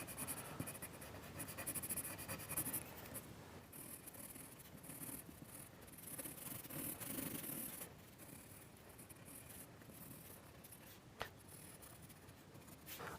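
A soft 4B or 5B graphite pencil rubs and scratches across paper in continuous quick strokes while loose masses of tone are sketched, a close, steady scratchy texture that runs alone throughout with no talk.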